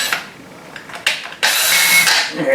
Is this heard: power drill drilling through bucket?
yes